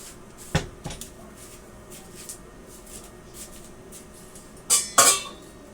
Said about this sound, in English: Let me get one of my mixing bowls out.